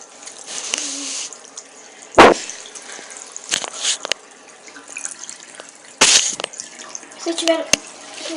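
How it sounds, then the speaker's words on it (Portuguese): Tap water runs and splashes as a spoon is washed at a sink, with intermittent gushes and drips in short bursts, close to the microphone; a voice is faintly present at moments. "quando eu lavar a colher, eu volto."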